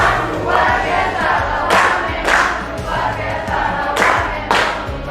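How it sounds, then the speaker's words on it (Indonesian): A class of ninth-grade students in a classroom claps and cheers for a classmate: loud, continuous crowd noise with recurring bursts of shouting and clapping. "Kasih tepuk tangan dulu."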